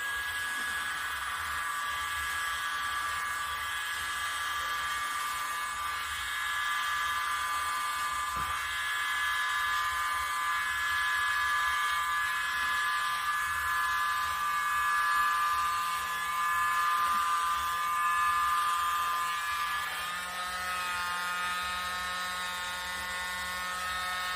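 A hair dryer blowing across acrylic pour paint in a Dutch pour with silicone, a steady close whining hum that wavers slightly in pitch as the airflow shifts, with no talk over it.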